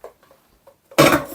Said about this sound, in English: Let's pop the pasta back into the frying pan.